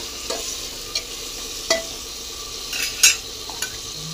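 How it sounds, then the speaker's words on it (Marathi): Chicken pulao sizzles in a pan under steady frying hiss while a spoon stirs it, with a few soft scrapes and clinks spaced out over a few seconds. "आपल्याला हे हलवून घ्यायचे."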